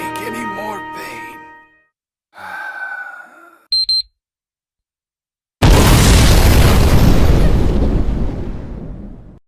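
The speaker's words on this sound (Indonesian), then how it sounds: "Mereka mendengar ledakan itu" A bomb blast in an animated game story: after short bursts of music, chatter and a beeping alarm, a sudden loud boom erupts and rumbles on for several seconds, then slowly fades.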